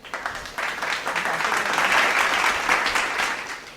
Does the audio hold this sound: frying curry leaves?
no